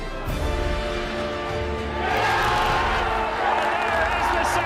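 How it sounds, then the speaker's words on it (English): Football crowd at Seaview stadium swells into louder cheering and roaring partway through, a broad distant wash of noise under an excited commentator's voice. "The early news of Cliftonville going ahead has raised the volume of the crowd here at Seaview"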